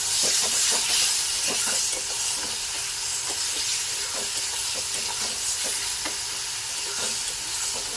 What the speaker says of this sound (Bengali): বড়িগুলো দিয়েও দশ মিনিট কষাবো